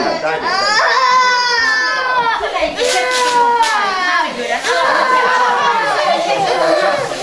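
A young child cries and wails loudly and continuously, with sobbing rises and falls throughout, while an adult voice speaks over the crying in a domestic setting.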